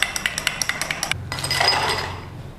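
A spoon stirs an iced peppermint mocha of espresso, chocolate and peppermint syrups in a glass: a quick run of about a dozen rhythmic ice-and-glass clinks, then a short pause and a softer swirling rattle.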